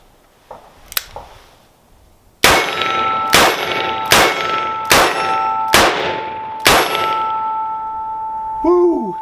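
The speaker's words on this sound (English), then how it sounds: "let's try a couple semi-fast action shooting at one target" Six sharp, evenly spaced metallic clangs from .44 Magnum rounds fired in semi-fast succession by a Ruger Super Redhawk revolver striking a steel target, each ring lingering before the next, loud and close after a few faint early knocks.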